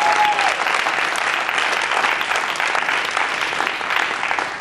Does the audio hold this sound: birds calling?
no